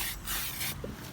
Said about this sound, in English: Just going to get that sprayed in with some brake cleaner.